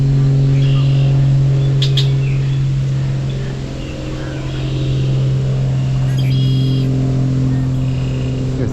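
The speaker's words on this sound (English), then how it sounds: "There are 3 red-winged blackbird males calling to each other." Three male red-winged blackbirds call back and forth from a marsh boardwalk, with short bright bursts rising over a loud, steady low rumble of passing traffic.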